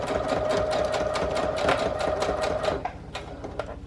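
A sewing machine stitches through a layered paper journal card with a steady, rapid mechanical whir. It slows into a few separate clicks near the end.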